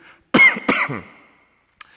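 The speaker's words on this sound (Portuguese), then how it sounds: "Desculpa a tosse" Two sharp, close coughs in quick succession, then a brief faint sound after a pause.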